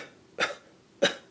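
Two short, sharp coughs, close by, spaced about half a second apart with quiet between them.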